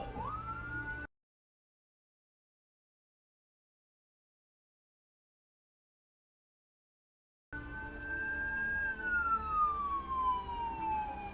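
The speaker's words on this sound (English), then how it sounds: "The sedan driver just froze when he heard the ambulance" Ambulance siren on a road, caught from a dashcam inside a car: a wailing tone is heard briefly, cuts out for several seconds, then returns louder with a long falling sweep over road noise.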